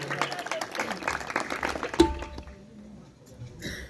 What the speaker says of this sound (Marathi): एवढं पूर्ण भारत देशात एकदा जोरदार टाळ्या वाजवा